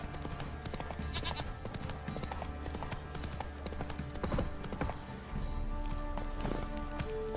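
Horse hooves clip-clop steadily in Witcher 3, a rapid rhythmic run of hoofbeats with a brief bleat-like animal call, over a busy game soundscape with no talk.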